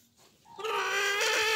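Farm birds call out: a rising, harmonic crowing cry from roosters among guinea fowl, starting faint and swelling into a loud, sustained call that fills the second half of the moment.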